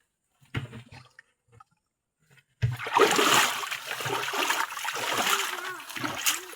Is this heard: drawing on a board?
no